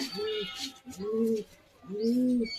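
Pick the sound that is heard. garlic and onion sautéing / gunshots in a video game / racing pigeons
racing pigeons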